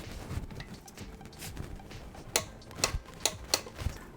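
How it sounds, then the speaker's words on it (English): A torque wrench tightens clutch bolts on a Lexus IS300 manual swap with an ACT 6-puck clutch, giving a handful of sharp, close metallic clicks near the end after quieter shop rustling. "Go ahead and get your torque wrench."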